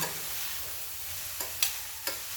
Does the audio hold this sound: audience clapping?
no